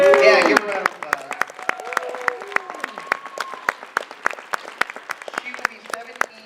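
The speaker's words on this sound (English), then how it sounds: "give her a round of applause" Audience at a closing ceremony breaks into applause, a dense burst of clapping that thins into scattered, sharp individual claps, with a voice speaking briefly underneath at the start.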